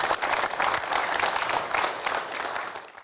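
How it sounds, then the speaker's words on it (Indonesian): Dense, steady applause from an evening audience invited to welcome a guest at a religious talk event, a continuous wash of many hands clapping for about three seconds and tapering at the end. "boleh berikan tepuk tangan hadirin sekalian"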